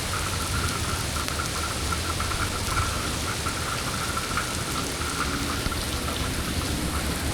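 Rain falls steadily in Abu Dhabi, a constant dense hiss of drops pattering on surfaces nearby, even and unbroken throughout.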